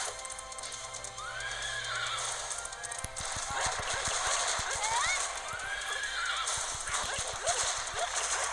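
Pixel-art action game Otherworld Legends: a horse gives several loud whinnies while rapid galloping hoofbeats clatter through the middle of the scene, layered over steady game music and effects.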